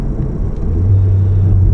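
A VW MK7 Golf R running a new downpipe on a stage 1 tune gives a loud, close exhaust rumble that deepens and steadies into a low drone partway through.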